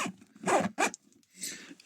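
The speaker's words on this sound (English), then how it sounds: "So we'll get that zipped up." A zipper drawn shut on an air pistol range bag, two or three quick rasping pulls at close range followed by a softer, longer zip, with no talking.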